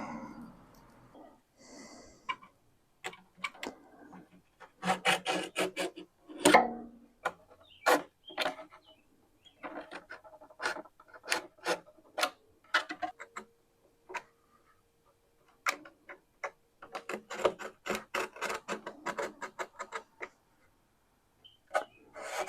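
A blade or knife cuts wood along a clamped steel rule during work on a Philco 60B radio cabinet, heard as repeated short rasping strokes in bursts with pauses, close and clear, with no talk.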